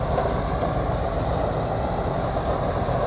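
A TRM M6s sugarcane harvester chops cane into pieces, giving a loud, steady, unbroken mechanical roar and rush up close, with no talk over it.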